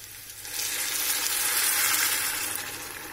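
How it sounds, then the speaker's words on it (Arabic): Hot boiled water poured onto rice sticking in a frying pan, producing a loud, close, broadband sizzle that builds after a moment and holds steadily to the end, with no voices. "دابا اللي غنزيد الماء، الماء طايب يكون"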